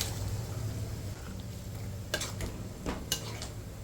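Boiled black-eyed peas (karamani) are tipped into a pot of kuzhambu and stirred, with a soft wet slide and a few sharp spoon clinks against the pot under a low steady background hum.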